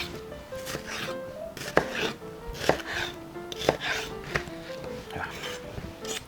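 A knife chops half an onion on a cutting board for a Spam and tofu braise, with sharp, fairly close, irregular thuds spaced about a second apart over faint background noise.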